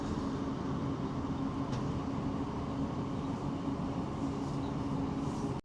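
Scotrail Class 156 diesel train runs through Newton on Ayr station, a steady low rumble and hum heard from inside the carriage, constant and moderately loud throughout.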